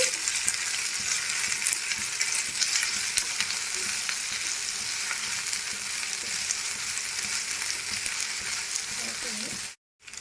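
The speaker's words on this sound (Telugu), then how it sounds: "అల్లం వెల్లుల్లి పేస్ట్ కూడా వేసుకోండి. ఇప్పుడైతే ఇది పచ్చివాసన పోయే వరకు వేపుకోవాలి." Ginger garlic paste frying in a pan with onions for a chicken fry biryani gives a steady, close sizzle throughout with light stirring noises, then a brief drop near the end.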